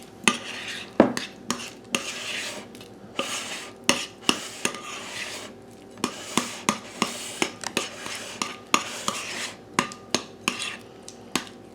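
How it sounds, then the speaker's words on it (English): Blueberries stirred by hand into sweet biscuit batter in a bowl, a run of repeated clinks and scrapes of a spoon against the bowl in an uneven rhythm, close and fairly quiet, with no talking. "we're going to stir the blueberries in."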